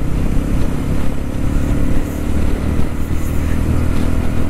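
A 2023 Jawa 42 motorcycle pulls through its gears on a ride, a loud, continuous engine drone with wind rush, heard up close and rising and falling slightly, with no voices.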